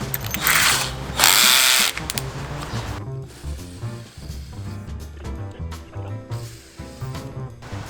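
A Zaya JPD-126 cordless drill whirs loudly for about two seconds of drilling, then gives way to clicking and handling clatter.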